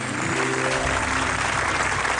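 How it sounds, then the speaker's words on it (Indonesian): Studio audience applause on the Indonesian TV comedy talk show Indonesia Lawak Klub, a steady, dense clapping that holds evenly throughout, with faint voices beneath at the start. "Oke, tepuk tangan dulu dong."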